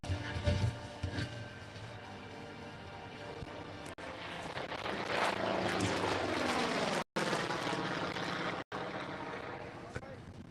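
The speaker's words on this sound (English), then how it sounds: "Mike Oliver in from the left in the Bearcat" A Bearcat warbird propeller plane flies past at an airshow at McMinnville Airport in Oregon, its engine drone swelling and sweeping in pitch as it passes, with an announcer's voice over a loud PA at the start.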